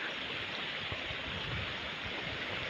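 Soft, continuous wash of clear river water flowing, faint and even, with gentle low burbles and no talking.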